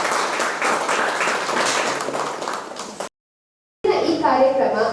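An audience claps at a roadside protest against land acquisition, a dense burst of applause lasting about three seconds, then a brief silence before voices and more sound resume.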